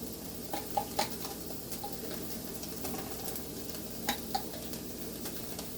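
Jarred garlic sizzles softly in a pot, a faint continuous frying hiss punctuated by a few sharp clinks of a utensil against the pot.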